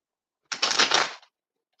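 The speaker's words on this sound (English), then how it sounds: "Let's see what this shuffle brings. I'm gonna shuffle it." Tarot cards are shuffled in one quick, close riffle lasting under a second, followed by a faint brief rustle of cards.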